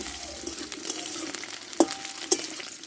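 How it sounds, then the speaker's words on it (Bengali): Potatoes and vegetable stalks fry in hot oil, a steady close sizzle with two sharp clatters of stirring against the pan. "আলুটা একটু কষে নিয়ে আমি তখন ডাটাটা কষে নেব"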